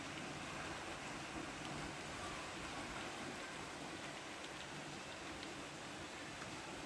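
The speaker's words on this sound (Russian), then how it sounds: "ливень." Heavy rain falls in a downpour, a constant faint wash of hiss with no break and no voices.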